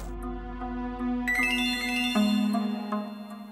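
A phone ringtone plays a bright electronic melody of stepped tones over a low hum, ringing steadily and fairly loud for several seconds with no one speaking over it.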